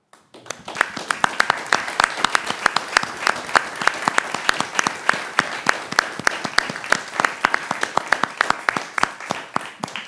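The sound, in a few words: council meeting applause for health workers and pharmacists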